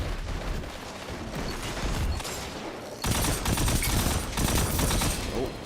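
Dense, rapid weapon fire in a Destiny 2 Iron Banner match, a continuous crackling barrage that grows louder partway through and stays intense to the end.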